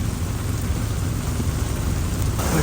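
Heavy rain pours steadily at Manora beach in Karachi, a dense, loud, continuous wash of falling water without pause across the whole stretch, with no voices over it.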